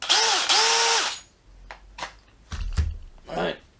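A Bosch cordless drill powered by a Pro Core battery whines loudly in two close bursts of steady high-pitched motor spin, followed by quieter clicks and handling thumps of the tool.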